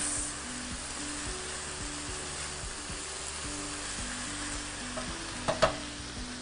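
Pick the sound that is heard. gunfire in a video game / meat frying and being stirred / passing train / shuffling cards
meat frying and being stirred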